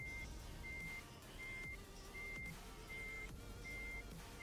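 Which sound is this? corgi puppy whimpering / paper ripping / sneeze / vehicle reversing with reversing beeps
vehicle reversing with reversing beeps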